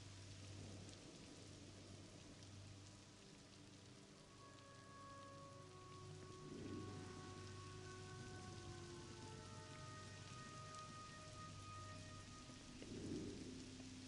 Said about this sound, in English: It's raining tonight.